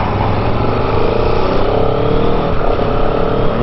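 Aprilia Tuono V4 Factory motorcycle engine running steadily under throttle, a continuous close, loud mid-pitched drone with rising harmonic pitch and a brief dip around an upshift, no voices.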